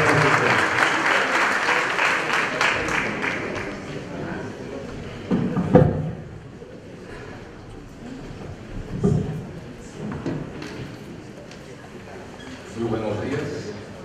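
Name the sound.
audience applause for a speaker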